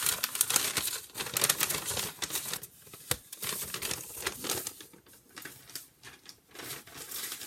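Tarot cards being shuffled for a reading, a steady run of close, quick papery riffles and flicks with brief pauses, heard alone without talk.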